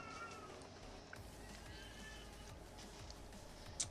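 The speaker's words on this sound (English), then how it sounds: "Cat going berserk." A cat meows loudly and insistently over a steady background hum, with drawn-out harmonic cries near the start and a sharp louder one at the end.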